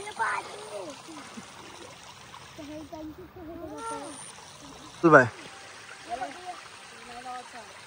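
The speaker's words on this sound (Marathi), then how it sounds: "इथून डोंगरावरून पाणी येतं आणि तोच आपल्या एकविराईच्या मंदिराच्या समोर पडतोय तो पाणी" Water flows down a rocky hill and splashes in front of the Ekvira temple at Mora, Uran, a steady rushing wash heard under people talking close by.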